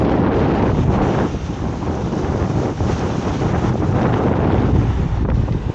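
Strong wind buffets the microphone on a small fishing boat at sea in sudden rough weather, a loud continuous roar with gusty surges and no voices.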